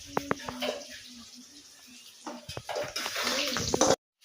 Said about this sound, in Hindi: तो चिकेन धोई दे आगे।